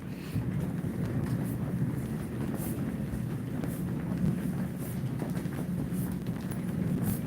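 Low, steady rumble of a train rolling on the tracks, continuous and moderately distant, with wind buffeting and no clear voices.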